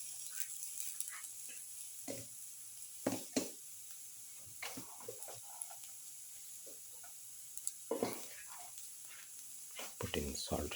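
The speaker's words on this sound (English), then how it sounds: "put in the ginger" Ginger frying in a pan of a cumin egg and winter melon casserole gives a soft, low sizzle with scattered crackles and clinks of stirring, fairly quiet, while a voice talks intermittently over it.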